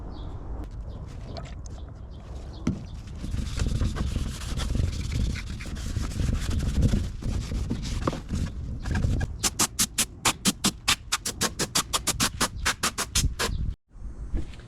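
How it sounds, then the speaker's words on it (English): A rag rubs back and forth over a car's K-series engine valve cover while it is cleaned with alcohol, making close scuffing and squeaking, with a fast burst of rhythmic strokes near the end. "Just gonna wipe the whole valve cover down, make sure there's no oils from anything"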